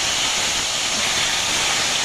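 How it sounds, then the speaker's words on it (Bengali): Bhola fish frying in a pan gives off a steady, loud hiss and sizzle of hot oil, dense and unbroken throughout with no voices. "মাছ ভাজা এখনও চলছে"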